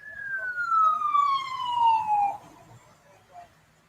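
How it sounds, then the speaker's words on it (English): An ambulance siren, a single long descending wail that fades as the vehicle passes, heard indoors over quiet background talk. "ambulance."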